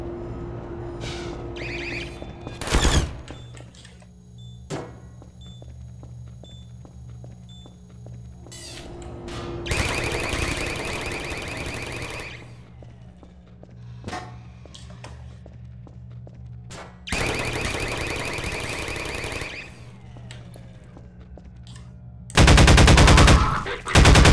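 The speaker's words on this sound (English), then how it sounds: "the turrets are completely annoying" Automated turrets in Half-Life 2 fire in several loud, sustained bursts of rapid machine-gun fire, separated by quieter stretches of game ambience and footsteps.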